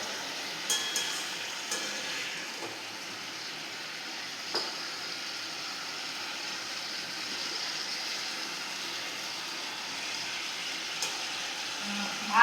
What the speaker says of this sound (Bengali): এই যে কড়াইটা ফুলকপি ভাজা করছি